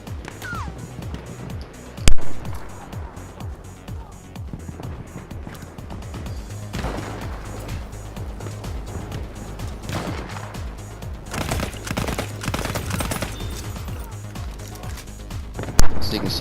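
Gunfire in Battlefield 1, with a tight-spread weapon firing in rapid bursts across the scene, sharp cracks standing out near the start and end, mixed with game ambience and a voice talking throughout.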